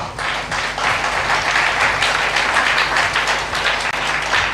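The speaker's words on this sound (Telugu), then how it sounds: "గట్టిగా చప్పట్లు కొట్టండి ప్రియులారా" A church congregation at a Christian sermon claps hard together, a dense, loud wash of hand claps running steadily for a few seconds under a low hum.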